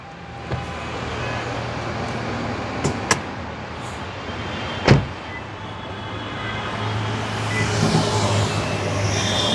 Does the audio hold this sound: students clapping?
no